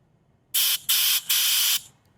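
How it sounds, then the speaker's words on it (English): Compressed air blows through the carburetor of an Evinrude/Johnson 9.9 or 15 hp outboard motor in three sharp, loud hissing bursts separated by brief gaps, alone and close. "So now I'm going to start blowing the carburetor from here."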